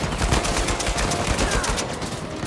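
Rapid automatic gunfire in the video game Uncharted 4, a loud, continuous burst of closely spaced shots that runs the full length without letup and with no talk.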